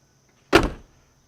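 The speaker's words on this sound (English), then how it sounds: "just opening the door, I mean, a lot of these 70s cars have thick doors" The heavy door of a 1969 Lincoln Mark III opens with one solid, close clunk and a short fading rumble, with nothing else around it.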